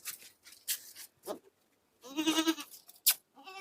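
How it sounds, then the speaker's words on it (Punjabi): Goat bucks and does with kids, offered for sale in a Punjab village, give a clear, wavering bleat in the middle, surrounded by scattered nearby rustles, thumps and short animal noises, moderately close and with no speech. "ਬੱਕਰੇ ਫੜ ਲਓ ਜੀ ਦੋ ਆ ਬੱਕਰੇ"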